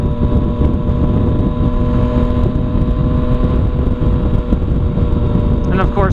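Yamaha FZ-09 street bike being ridden with an Arrow exhaust and the dB killer removed, a loud, steady engine drone heavy with wind rush, the rider's voice heard over it.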